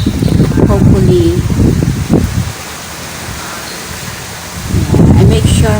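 Strong wind blows outdoors on a windy day in the Philippines, a steady broad rushing noise heard plainly in a pause between stretches of close speech.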